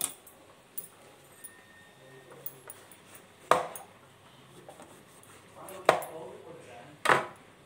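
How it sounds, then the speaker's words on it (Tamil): A knife cuts eggplant (brinjal) into thin slices on a board, making a few sharp, separate chops spaced seconds apart against a quiet kitchen background. "இப்போ அரியிறேன்."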